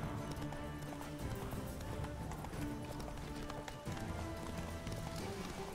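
Roach, a horse in The Witcher 3 video game, gallops with a steady, rapid clip-clop of hooves that runs unbroken throughout, close and prominent.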